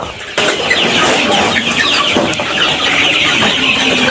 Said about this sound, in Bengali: দেখেন মুরগিগুলো কত সুন্দর